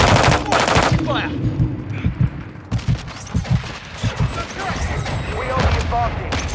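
Rapid machine gun bursts in Call of Duty Modern Warfare, loud and close, with repeated clattering volleys and heavy thumps across the clip, and game voices shouting commands over the gunfire.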